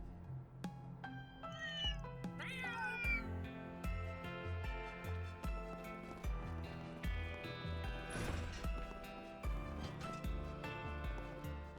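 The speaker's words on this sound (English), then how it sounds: "Meow. Meow." A cat meows repeatedly in the video game Trails Through Daybreak II, a few distinct meows rising over a steady, melodic game music score with plucked and percussive notes, no talk.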